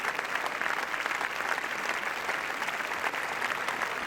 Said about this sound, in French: le public est debout pour applaudir Roman Polanski